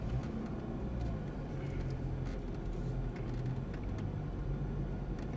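Low, steady engine rumble from inside an Audi R8 as it pulls forward on a racetrack, a muffled continuous drone with no talking.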